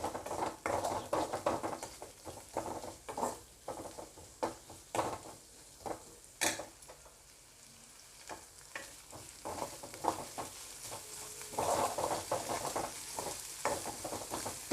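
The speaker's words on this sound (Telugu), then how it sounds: "ఉల్లిపాయ ముక్కలు వేసుకొని బాగా వేయించుకోవాలి." Onion pieces fry in a pan that earlier held prawns and eggs, with a lively crackling sizzle broken by frequent spatula scrapes and taps, dipping briefly quieter midway before picking up again.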